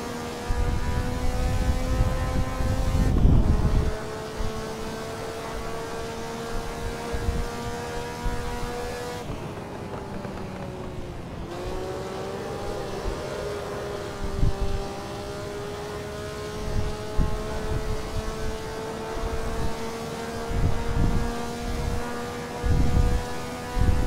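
Maserati 250F racing car in Assetto Corsa, its engine screaming at high revs with no rev limiter, pitch climbing through the gears, dropping sharply on a shift, then rising again with crackling throttle lifts along the lap.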